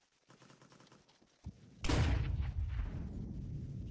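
Counter-Strike match gunfire: after a quiet start and a single sharp shot, a loud burst of rapid automatic fire erupts and continues as dense sustained shooting.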